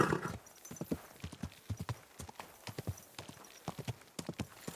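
Horse hooves clop in an uneven walking rhythm in the video game Kingdom Come: Deliverance II, fairly close and clear, with a brief brighter noise at the start.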